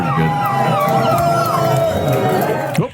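A crowd cheers and chatters continuously, a dense wash of voices with whoops rising above the babble, fairly loud throughout before a sudden cutoff at the end.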